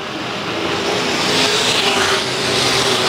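IMCA modified race cars roar around Ionia Raceway Park in a side-by-side drag down the back straightaway, a loud, continuous wall of engine noise with a slight swell midway and no voices.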